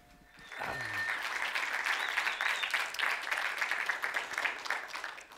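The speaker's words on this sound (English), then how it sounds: "Please give a warm round of applause for Jonathan Alcorn." A conference audience at PIX 2015 breaks into warm applause after a speaker's introduction, with dense clapping rising quickly and holding steady before tapering off.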